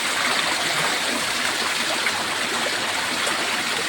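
Spring water flowing steadily at a small natural spring resort, a constant broadband rush of running water, close and continuous, with no voices.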